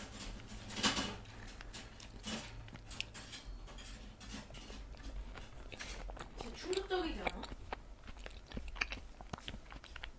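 Pineapple mochi is chewed close up, giving soft, sticky bites and wet mouth sounds that come quietly and intermittently over the whole stretch.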